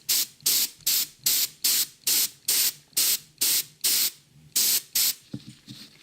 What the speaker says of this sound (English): I'm just basically painting with airbrush from the top to create some basic shadow and light.